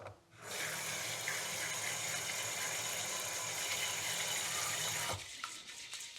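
Food being rinsed and washed by hand under a running kitchen tap, a steady hiss of flowing water for about five seconds that cuts off, leaving faint handling clatter, no talking.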